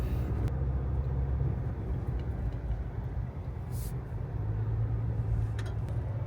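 GMC Canyon AT4x AEV Edition pickup driving along a dirt road, heard from inside as a continuous low engine and road rumble with steady tire noise and no voices.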